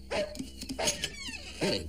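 A dog in the animated series Gargoyles, giving several short barks and yips at moderate distance, spaced irregularly across the moment.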